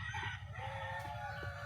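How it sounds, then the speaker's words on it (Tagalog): Newly hatched chicks in a nest give a steady, close, high chorus of peeping that runs without a break, with no voices over it. "Ngayon po, yung bagong pisa natin sisiw."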